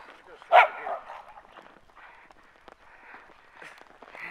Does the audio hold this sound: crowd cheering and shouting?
no